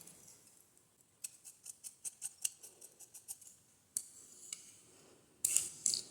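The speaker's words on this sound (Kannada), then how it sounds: "ಬಟ್ಟೆನ ಈ ಥರ ಟರ್ನ್ ಮಾಡಿ ಕಟ್ ಮಾಡುವಾಗ ಸ್ವಲ್ಪ ಕೇರ್ಫುಲ್ಲಾಗಿ ಟರ್ನ್ ಮಾಡ್ಕೊಳ್ಳಿ" Scissors snip through lining fabric for a blouse, a close run of crisp, evenly paced cuts that pause, then resume with a few louder, sharper snips at the end, with no voices.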